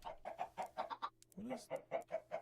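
Chickens on a video-game chicken farm cluck in a quick rhythmic series of short, close, fairly faint calls, with one brief break partway through.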